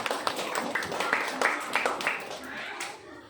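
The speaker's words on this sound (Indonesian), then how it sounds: "tepuk tangan dulu buat Bila." Schoolchildren in a primary classroom clap together for a classmate during a lesson, a loose run of steady claps at moderate loudness mixed with children's voices.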